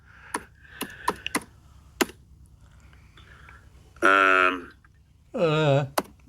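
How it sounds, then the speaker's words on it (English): Someone types hard on a computer keyboard with sharp, scattered clicks, then two stretches of voiced sound follow, with a low hum underneath. "He's got to lighten up on his keyboard"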